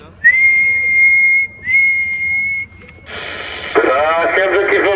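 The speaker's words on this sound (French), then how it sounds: "je vais te faire la sifflette là." A whistle test sent over a CB radio link during mobile antenna checks comes through as two steady tones, then a burst of harsh, distorted radio audio.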